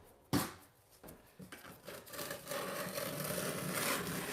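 A scraper works excess thinset off a tile baseboard, close rough scrapes and rubs starting with a sharp knock, then growing into steady gritty scraping strokes that continue to the end.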